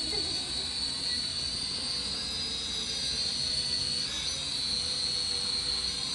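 A Maxbo A10 Cyclone toy drone flies indoors, its small motors and propellers giving a steady high-pitched whine with a buzzing drone that holds constant throughout, fairly close and alone.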